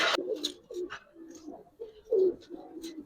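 Giribaz and coloured pigeons coo in short, low, throaty phrases nearby, among flutters and rustles, with one louder coo near the end.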